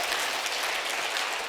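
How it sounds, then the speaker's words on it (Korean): A church congregation at a Sunday service gives warm applause, a soft, even wash of many hands clapping together, heard from a distance and brief. "우리 세 분을 위해서 다시 한번 뜨거운 박수를 좀 해주실까요?"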